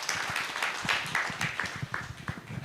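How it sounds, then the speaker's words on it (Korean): A conference audience gives a researcher a round of applause after a talk on container logistics, producing scattered, moderately quiet clapping with distinct individual claps. "권영장 연구원님께 다시 큰 박수 부탁드리겠습니다"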